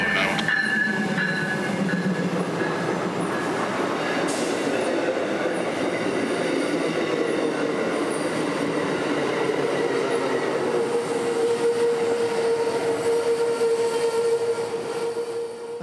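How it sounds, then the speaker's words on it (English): An Amtrak passenger train pulls into a station in central Florida, its steady rumble filling the scene, with faint clatter of wheels and a drawn-out brake squeal as it slows to a stop. "Amtrak 91, now out from its Tampa detour and back on the road south, stopping here with Amtrak 97 right on his heels"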